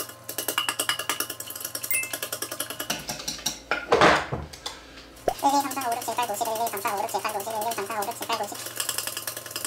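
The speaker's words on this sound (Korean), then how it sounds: "원래 거품기로 해야 되는데 거품기 없어서 젓가락으로 해보겠습니다." Chopsticks whisk a raw egg with a little yolk mixed in inside a bowl, giving a quick run of light clicks and taps against the side, broken by a brief louder clatter midway.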